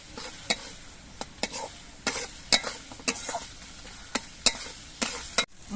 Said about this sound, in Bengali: এবার মশলাগুলো কিছুক্ষণ কষিয়ে নিতে হবে